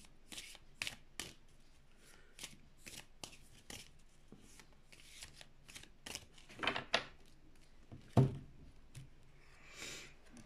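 Tarot cards shuffled and drawn by hand, a quiet, close series of riffling flicks and soft slaps with brief pauses and a louder card snap toward the end.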